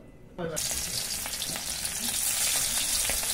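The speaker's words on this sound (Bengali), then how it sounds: "ভাজা হয়ে গেছে পুঁটি মাছ, শুকনো লঙ্কা, পেঁয়াজ কুচি, লঙ্কা কুচি" Puti fish sizzling in a pan with dried chili, chopped onion and green chili, a steady loud frying hiss with faint stirring scrapes, starting abruptly and continuing throughout.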